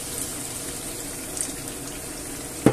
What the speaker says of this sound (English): just a drop of water.